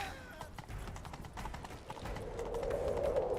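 Horse galloping in the video game The Witcher 3, rapid rhythmic hoofbeats running steadily and close, growing slightly louder toward the end with a tonal sound layered over them.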